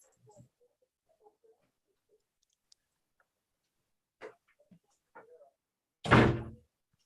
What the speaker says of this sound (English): Let me close my bathroom door because I don't like that background.